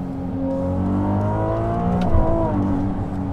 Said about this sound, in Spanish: Es tremendamente increíble que pueda extraer este sonido de un motor V6.